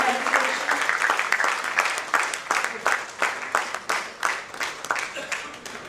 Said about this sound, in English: I request all to please give a huge round of applause for all the nominees of